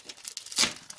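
A short, quiet rip of adhesive tape pulled off lotion packaging, one brief tearing burst with faint crinkling around it, close and alone.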